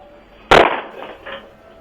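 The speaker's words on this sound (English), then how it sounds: "The sound of the attempted burglar's foot hitting the door is especially jarring." A man kicks a house's front door in a failed break-in: one hard, sudden impact and rattle, then a weaker knock or two a moment later, heard close by.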